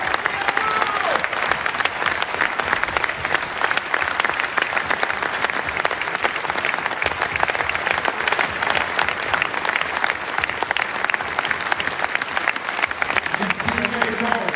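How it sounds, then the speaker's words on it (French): Audience applause at a tribute event honouring a magician, sustained dense clapping from a large room that continues steadily throughout, with a voice briefly audible near the end. "Il vous y applaudit."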